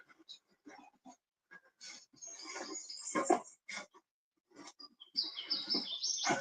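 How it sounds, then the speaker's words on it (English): Birds chirp and call in short repeated bursts in the woods, fairly close and moderately loud, with voices talking over and between the calls. "Listen to the bird Bird language."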